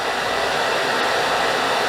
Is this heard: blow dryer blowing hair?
yes